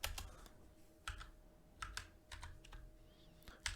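Light clicks of a computer keyboard come in short irregular bursts of keystrokes, quiet and close in a calm room, with no talking.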